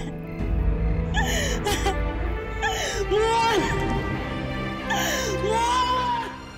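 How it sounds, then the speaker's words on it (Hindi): A child's crying and whimpering in a Hindi horror drama, with wavering wails and gasping sobs rising and falling through several loud, close bursts over a low eerie background. "उस बच्चे की रोने की आवाजें सुनाई दे रही थी"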